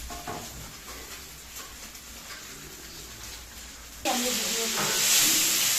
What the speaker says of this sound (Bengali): বাইলা মাছ, বিভিন্ন রকমের মাছ ভাজা চলছে